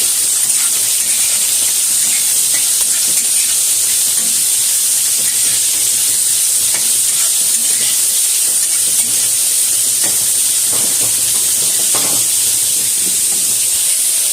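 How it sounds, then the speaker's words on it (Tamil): Mustard seeds and onions frying in hot oil in a pan, a continuous loud bright sizzle and hiss with occasional sharper pops, steady for the whole stretch with no talking. "அதுக்கு வானலில் எண்ணெய் ஊற்றிருக்கேன். இந்த கடுகு போடுறோம், வெங்காயம் போடுறோம்."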